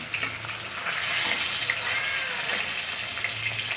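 Chicken pieces and potatoes fry in oil in a pan, a continuous bubbling sizzle with faint stirring scrapes, fairly quiet and steady throughout.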